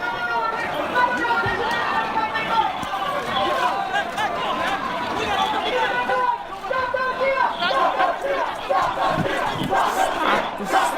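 A large crowd at a political rally outside the Capitol chants and yells in loud, rhythmic unison, many voices shouting together near the microphone with scattered cries and general crowd noise underneath.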